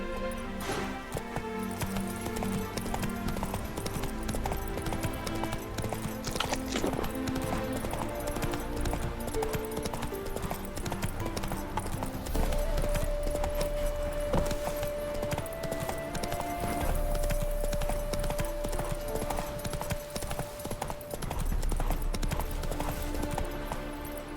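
Horse hooves clip-clop steadily at a gallop in The Witcher 3: Wild Hunt, with an occasional whinny, under continuous game music at a constant loudness.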